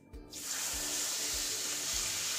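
Water is poured into wheat flour (atta) in a pan for halwa, starting with a brief splash that turns into a steady, close hiss, with no talking.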